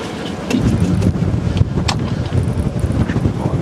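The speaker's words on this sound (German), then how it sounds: "Ja, der Wind ist da relativ stark." Strong wind buffets a sailboat motoring at about four knots while docking, with gusty roaring rumble and microphone wind noise filling the whole stretch, no voices.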